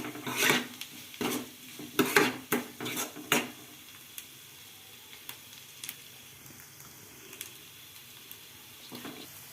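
Bitter gourd fry being stirred in a pan, a ladle scraping and clattering against the metal in a quick burst of strokes up front, then a few sparse light scrapes over a soft low sizzle.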